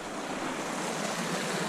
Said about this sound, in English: This little creek is flowing